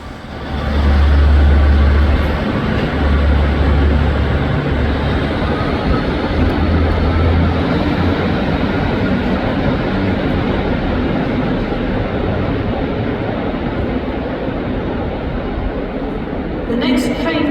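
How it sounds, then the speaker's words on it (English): Train 15645 pulling out for Morpeth at Newcastle station, a loud sustained rumble and engine roar that swells early and then holds steady, with a rising whine near the end and no speech. "And there goes"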